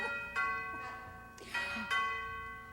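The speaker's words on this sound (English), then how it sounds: "I got the doorbell." Doorbell sound effect in an old radio comedy play, several bright ringing chimes sounding one after another with lingering tones, moderately faint and without talk over them.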